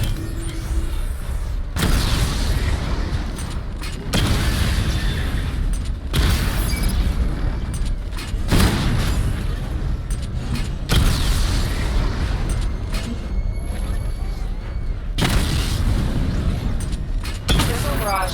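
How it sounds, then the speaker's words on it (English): Missile barrage explosions in Batman: Arkham Knight come as a series of heavy, booming blasts every couple of seconds, each with a deep rumble and mechanical clatter, loud and close. "Charge the missile barrage to level 2 to destroy up to 4 targets at once."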